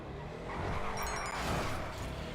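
A Nightshark car in GTA V Online drives and skids, with a continuous engine roar and tire squeal rising and falling over a couple of seconds, fairly close and steady.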